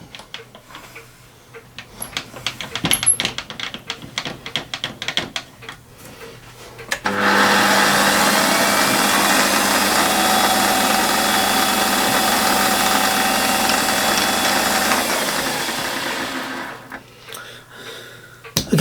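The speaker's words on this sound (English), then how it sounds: "Let's bring the centre drill in." After some scattered clicks and handling noise, a lathe hums steadily with a grinding, cutting tone as a centre drill bores into metal for several seconds, then winds down.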